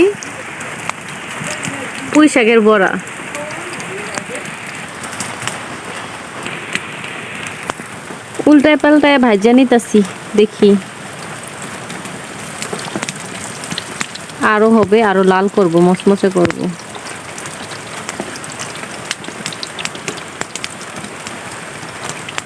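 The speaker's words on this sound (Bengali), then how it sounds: "বাইরে বৃষ্টি হচ্ছে আর আমি ঘরে বসে বানাচ্ছি" Rain falling outside a house, a constant close hiss of drops running through the whole stretch while someone speaks in three short bursts over it.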